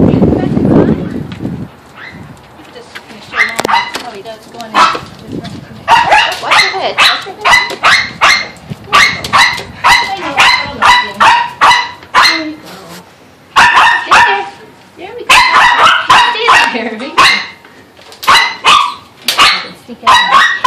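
A small dog barks repeatedly in sharp, close bursts with short yips and a low growl, while a person talks encouragingly between the barks.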